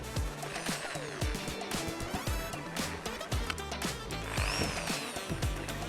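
An electric drill whines in rapid, uneven bursts against a hard surface amid clattering handling noise, loud and close, with a busy mix of scraping and knocking through the whole stretch.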